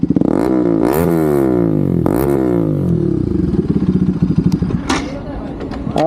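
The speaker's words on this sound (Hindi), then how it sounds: "ये देखो भाई, ये है RS 200 की एग्जॉस्ट का साउंड।" A Bajaj Pulsar RS 200 motorcycle exhaust revs up close in repeated rising bursts, then settles into a rapid, throbbing idle with a faint rattle.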